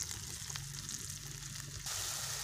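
Whole cloves, cinnamon and cardamom sizzle in mustard oil with chopped onion and green chili over a clay stove, a steady close frying hiss that swells louder near the end.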